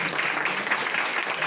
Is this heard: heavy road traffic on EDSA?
no